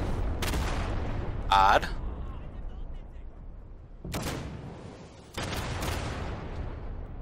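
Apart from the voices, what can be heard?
grenade explosion and gunfire in video game Day of Infamy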